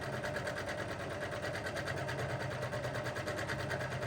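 Sewing machine stitching a seam on a fabric bag runs at a steady rapid rhythm, close and continuous throughout with no pauses.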